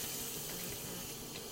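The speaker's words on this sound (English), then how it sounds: "I'll turn the faucet on" A kitchen sink faucet turned on, its water running in a steady, even hiss with no pauses and no voices.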